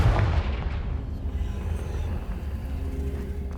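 A Confringo fire spell blast in the Hogwarts Legacy video game on PC: a heavy booming burst at the start that rolls off into a low, sustained rumble.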